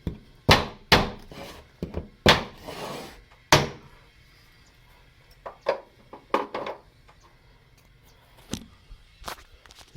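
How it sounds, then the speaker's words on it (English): Shiplap ceiling boards are hammered into place on a front porch, sometimes through a scrap wood block, in a series of sharp, close wooden knocks in irregular bursts with short pauses between them. "Hammer it into place."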